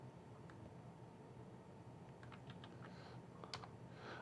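Someone types on a computer keyboard, quiet scattered key clicks over a steady hiss of background noise, growing a little busier toward the end.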